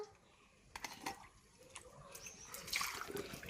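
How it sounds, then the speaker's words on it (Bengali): Water splashing and trickling while potatoes are washed during a bath at home, with faint irregular drips and splashes and a voice talking nearby. "এই নে, আলুগুলো ধুয়ে ফেল।"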